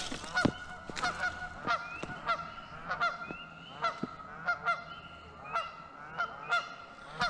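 A flock of Canada geese honks repeatedly at a distance, overlapping calls in an irregular rhythm, with faint outdoor background.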